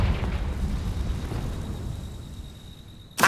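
Confringo fire spell explosion in the Hogwarts Legacy video game, a loud low-heavy blast rumbling and fading over a few seconds, with a sharp burst at the end.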